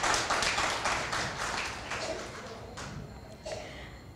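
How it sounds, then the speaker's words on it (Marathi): A theatre audience at a stage show applauds in a loud burst of dense clapping that gradually thins and fades out over a few seconds. "सो पुन्हा एकदा जोरदार टाळ्या आपल्याचसाठी."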